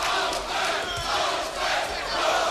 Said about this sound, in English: And now the chant from the crowd of Lopez.